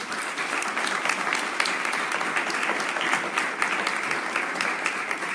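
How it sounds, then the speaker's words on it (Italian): Steady, even applause of encouragement from an audience at a political gathering in Rimini, sustained and moderately loud with no talking over it. "noi lo vogliamo ringraziare con un applauso"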